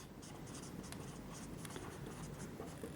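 Chalk or marker writes on a board during a civil engineering lecture on brick work and plaster estimation, with soft scratchy strokes in short irregular bursts, faint and close against a steady hum of room noise.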